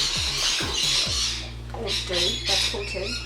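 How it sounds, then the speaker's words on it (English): Birds squawk loudly and repeatedly outdoors, harsh calls arriving in bursts close by, while a person talks underneath them. "Birds, can you not?"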